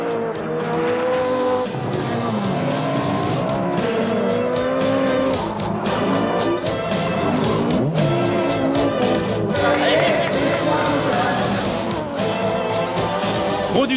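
Rallycross race cars, including a Nissan Micra with a V8 Cosworth engine, race in a 1996 French championship event, with roaring, revving engines and tire squeal sounding continuously and loudly.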